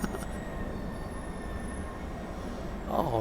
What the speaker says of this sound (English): I like it when the train picks up to top speed.